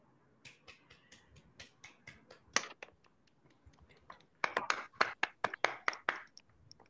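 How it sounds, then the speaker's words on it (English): Scattered handclaps from a few online attendees with unmuted microphones after an academic talk. A sparse, uneven patter of sharp claps comes first, then a louder, denser burst, all fairly close with no talking. "please give a clap for him."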